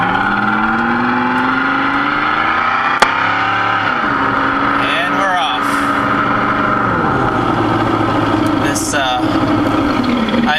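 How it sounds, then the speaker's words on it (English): Simulated V8 muscle car engine note from a Sound Racer device playing through the stereo of a Pontiac Grand Am, a steady loud drone with rising and falling rev sweeps as the car pulls onto the road. "Replicates the sound of a classic muscle car without having to be in an actual muscle car."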